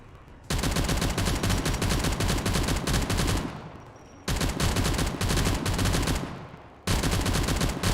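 Sustained automatic gunfire from a gun in the game Factorio, modded with Space Exploration and Krastorio 2, comes in three long, loud, rapid bursts separated by short pauses, with no talking.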